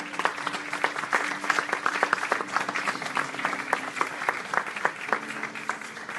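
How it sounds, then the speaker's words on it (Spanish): A crowd claps steadily for several seconds, dense and sustained, with a few voices faintly beneath. "Dale un aplauso al Señor."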